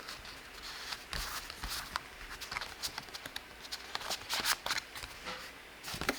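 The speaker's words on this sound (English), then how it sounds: "I'm going to show you that this card can actually fit into this envelope." A paper card slides into an envelope up close, giving papery rustles and soft scraping taps in irregular bursts.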